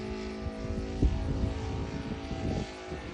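An RC Aeroworks Yak 55 model plane with an ASP 400 radial engine flies overhead, its steady droning buzz holding at moderate distance with slight rises in pitch as it climbs, alone without talk.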